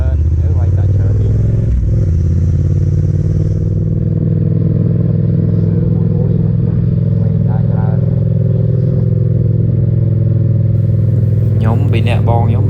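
A Yamaha MT-07 motorcycle on the road on a trip through Koh Kong toward Veal Veng, its engine holding a steady, close drone with constant wind rush. Brief clatter comes near the start and end.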